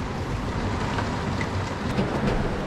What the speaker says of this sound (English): Wow, it's raining a lot.